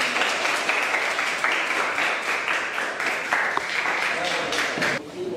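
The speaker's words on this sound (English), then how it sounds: "everyone give him a round of applause" A crowd at a kids' dance battle applauds a contestant named Blanco. Dense, steady clapping runs loud and close throughout, with cheering mixed in and a brief drop near the end.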